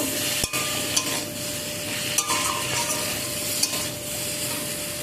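Drumstick curry with turmeric and chili powder stirred in a pan, a steady close sizzle of frying under scattered scrapes and knocks of the spoon against the metal.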